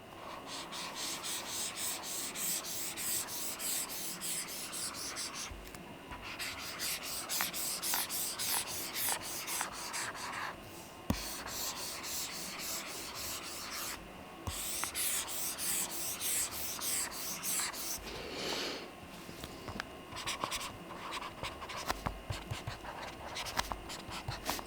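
Stylus writing on a Boox e-ink tablet screen, a close, soft, slick scratching and rubbing with rapid stroke patterns, brief pauses between bursts of writing, fairly quiet and low in friction.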